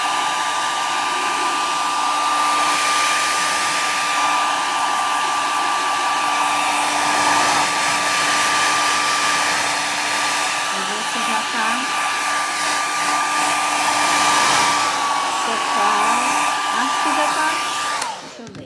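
A hair dryer blows steadily and loudly for the whole stretch, drying a chalk-paint crackle finish, its constant whine and airy rush holding without a break until it cuts off at the very end.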